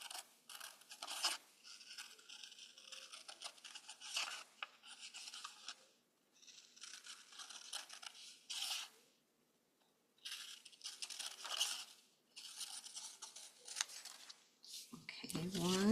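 Scissors snip repeatedly through paper while cutting out a drawn apple shape, in short crisp bursts with brief pauses, fairly faint and close.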